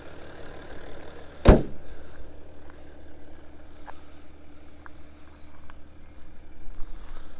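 A car door on a 2014 Audi SQ5 3.0 V6 BiTDi automatic shuts with one loud, solid thud, followed by a low engine idle and a few faint clicks.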